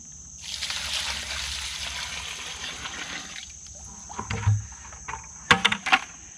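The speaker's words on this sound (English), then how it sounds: "I'm going to pour the water into the bucket with the clay." Water poured into a bucket of dirt-made clay gives a steady splashing trickle that builds, fades, then gives way to a few sloshing knocks and clunks near the end, with a high whine running throughout.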